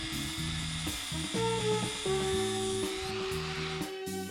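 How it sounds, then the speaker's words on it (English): Angle grinder grinding down welds on a steel side-mount overland ladder for a Mitsubishi Delica, a loud continuous whining buzz with shifting pitch as the disc bites, close up and without talk. "The next step is to grind down all your welds"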